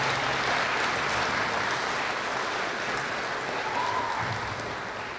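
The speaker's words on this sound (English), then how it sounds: "Please give another round of applause for our kindergarten through grade five Good Citizen winners." Sustained applause from a school assembly audience honoring kindergarten through fifth grade Good Citizen winners at an elementary school awards ceremony, a steady dense wash of many hands clapping that tapers slightly near the end.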